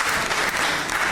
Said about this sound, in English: A round of applause again for the regional minister.